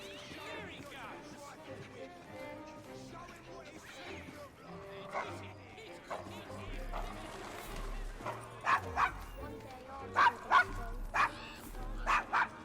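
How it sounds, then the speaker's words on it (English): A dog barking and yipping in a rough London district in Assassin's Creed Syndicate, sharp barks bunching toward the end over game ambience, with voices talking beforehand. "Is your dog quite all right?"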